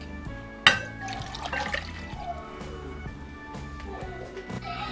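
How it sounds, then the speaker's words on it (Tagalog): Water is poured into a saucepan at the start of a hot and spicy fishball sauce, with splashing and trickling, a sharp clink near the start, and small knocks of cookware. "sa isa pong kaserola, pwede na po natin ilagay ang ating tubig"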